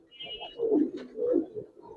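Giribaz pigeons give two soft, low rolling coos close by, faint and otherwise quiet.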